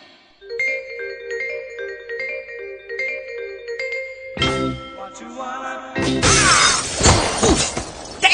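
A window's glass shatters loudly as someone is flung through it, preceded by a tinkling musical passage and a crashing impact, then a bright burst of breaking, scattering shards near the end.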